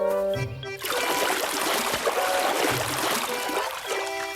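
Water gushing into a cave in a Hindi bear-cubs cartoon, a loud, continuous rushing and splashing flow that starts abruptly after a brief musical tone and keeps going with faint tones behind it.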